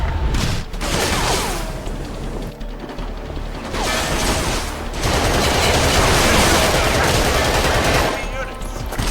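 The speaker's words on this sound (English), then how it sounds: "We are taking heavy fire from both tanks" Sustained heavy gunfire and explosions in the Battlefield 2: Modern Combat video game, a dense, loud battle din with tank fire, swelling midway and holding steady, with faint voices underneath.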